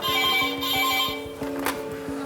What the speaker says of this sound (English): Farooq, can you answer the phone, please